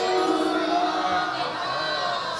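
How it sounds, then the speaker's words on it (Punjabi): A Sikh congregation shouting a jaikara together, a dense roar of many voices rising in unison and holding briefly at moderate distance. "ਜੈਕਾਰਾ ਦਿਓ ਪਿਆਰ ਦੇ"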